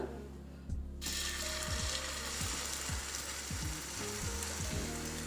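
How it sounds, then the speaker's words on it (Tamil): Beaten eggs for a Spanish omelette hit a hot, lightly oiled pan and set off a sudden, steady close-up sizzle that keeps going throughout, with faint clicks and scraping sounds over it and no talking. "பேன் நல்லா சூடான உடனே கொஞ்சமாக எண்ணெய், இப்போ நம்ம கலந்து வச்சிருக்க முட்டையை இதில் சேர்த்துக்கலாம்"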